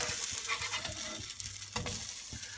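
Rice and coconut protein pancakes sizzle softly in a pan over low heat, with a few quiet scraping taps from a spatula as they are flipped; no talking.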